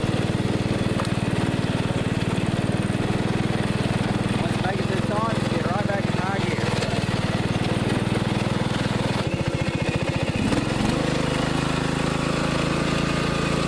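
A riding lawn mower in low gear climbs a hill, its engine a steady, close, loud drone with a brief throttle change near the end.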